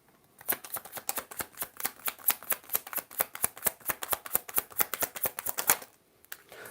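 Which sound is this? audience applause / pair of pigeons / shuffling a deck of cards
shuffling a deck of cards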